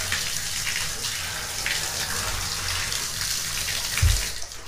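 An old shower head runs at full flow, giving a steady, close hiss of spraying water that continues throughout with no speech.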